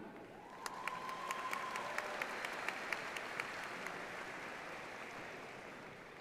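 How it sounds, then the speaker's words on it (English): A distant crowd at a university commencement ceremony applauds doctoral graduates, a faint, steady wash of clapping from a large audience with a few sharper claps standing out near the start. "Once again, join me in extending another round of applause for our doctoral graduates"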